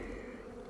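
A swarm of bees buzzes close and steady around a beehive being moved on a balcony, a dense continuous hum.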